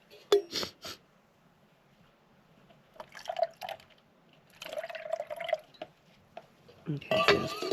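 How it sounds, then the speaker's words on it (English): Water is poured over an item to rinse it at a desert camp, coming in a few short splashing bursts separated by quiet gaps, with a voice speaking faintly in places. "I just poured some water on top of it"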